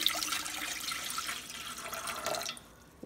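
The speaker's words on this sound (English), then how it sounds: "now what you need to do is put this water into this pot" Water pours steadily into a pot in a kitchen, a moderately faint, continuous splashing stream that stops abruptly near the end, with no talking.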